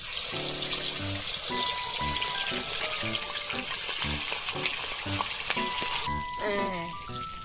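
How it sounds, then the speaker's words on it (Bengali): Pumpkin pieces fry in deep, hot oil with a loud, continuous sizzle close by, while a tonal beeping pattern runs beneath and a voice briefly joins near the end. "তেল গরম হয়ে গেছে, ও আর উঠবে, অত তেলের মধ্যে ডুবে গেছে। কুমড়োটাকে ছেড়ে দাও।"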